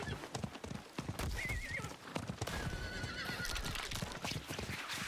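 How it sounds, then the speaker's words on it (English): A horse in the video game Diablo 4 clip-clops along in a steady, close hoofbeat rhythm, with a couple of drawn-out neighs rising over the trotting and game ambience. "Get off the horse when I click interact."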